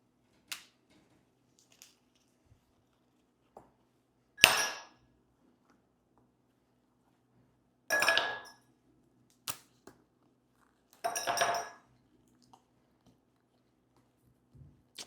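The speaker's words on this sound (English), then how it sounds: "let's put a couple ice cubes in there" Ice cubes drop into a glass, making several separate clattering knocks spaced a few seconds apart. They are quiet but crisp against an otherwise silent background.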